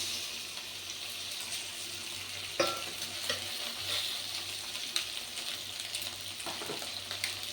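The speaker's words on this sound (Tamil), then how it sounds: "இதில் வந்து நம்ம அந்த 5 முட்டை உடச்சி வச்சுருக்கோம் இல்லைங்களா, அதை வந்து நம்ம இதில் ஊற்றிக்கலாம்" Five beaten eggs go into hot oil and masala for egg rice, and a sharp splash is followed by a steady, fairly quiet frying hiss with occasional stirring knocks.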